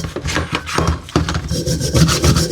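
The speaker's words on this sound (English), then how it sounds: "is just give it a wire brush before I soak it into some white vinegar" A wire brush scrubs loose rust from an old Snail Brand spanner in quick rasping back-and-forth strokes, close and fairly loud, with no voices.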